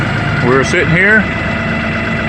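An LS XR3135 tractor engine idles steadily at roughly 900 to 1,000 RPM, a low, continuous hum running under a man's brief speech throughout.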